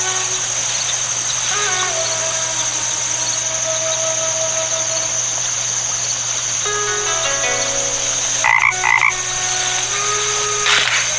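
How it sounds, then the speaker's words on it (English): A frog croaks at a pond in the adventure game The Night of the Rabbit, repeated loud croaks over a steady ambient hum with game music tones. "Is that a frog I hear? A frog."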